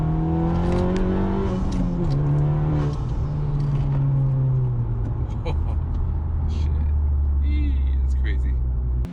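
Car fitted with a PRL E85 flex fuel kit accelerating hard in third gear, its engine note climbing steadily, loud and close, then easing off, with a voice speaking over it.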